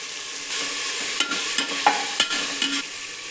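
Ginger garlic paste frying in a pan for wedding-style chicken biryani, with a steady close sizzle broken by several scraping stirs of a spoon, and no voices.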